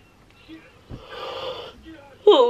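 A long, drawn-out yawn from a woman eight weeks into bikini prep, a breathy rising-and-falling exhale lasting over a second, close to the mic, with a sharper vocal sound right after it.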